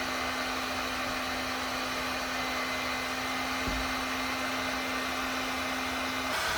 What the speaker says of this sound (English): Hair dryer is now on with microwave, washer, dryer, and air conditioner.